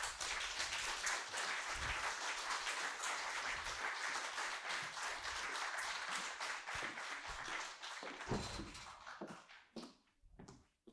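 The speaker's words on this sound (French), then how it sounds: "je vous prie de l'accueillir avec les applaudissements" Sustained applause from an audience at a French high-school eloquence evening, a dense steady clapping that holds for several seconds before thinning out into scattered claps and fading.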